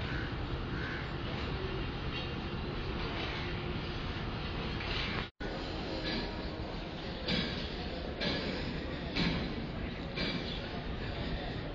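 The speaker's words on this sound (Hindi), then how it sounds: "स्पीड में नहीं जाएगी ट्रेन बिल्कुल स्लो क्योंकि कहीं ना कहीं तो पहुंचना है ना इसलिए बिल्कुल स्लो रफ्तार पे इसको चलाएंगे" A train rumbles slowly through Lahore station in winter fog, with a steady close clatter and roar. Crows caw in the background.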